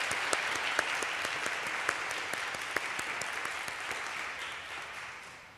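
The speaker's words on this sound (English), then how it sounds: "please, another round of applause for our incredible steward here" An outdoor civic crowd at Boston's 200th anniversary celebration applauds a steward, a dense, steady round of clapping with a few sharper claps standing out, fading slightly toward the end.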